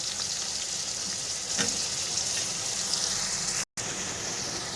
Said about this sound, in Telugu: ఇప్పుడు బీరకాయ అన్నీ కూడా ముక్కలు వేసుకోవాలి